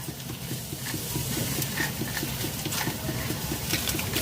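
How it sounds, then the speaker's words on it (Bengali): Hands knead and squish mashed green banana kofta mixture with ginger paste, a steady wet, sticky patter with regular squelching beats, close and continuous with no speech. "ভালো করে মেখে নেব কোপ্তা তৈরি করার জন্যে"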